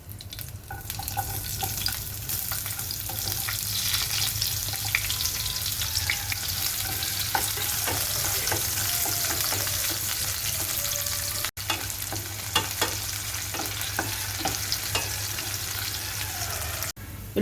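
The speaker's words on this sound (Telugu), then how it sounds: "ఉల్లిపాయ ముక్కలు కొద్దిగా ఫ్రై అయిన తర్వాత అల్లం వెల్లుల్లి పేస్ట్ వేసుకోవాలి." Onion pieces frying in oil with cloves, cinnamon, green chillies and shahi jeera for tomato rice, a continuous close sizzle with occasional stirring clinks and a steady low background hum.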